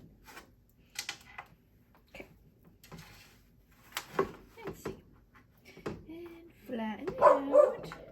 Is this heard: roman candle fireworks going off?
no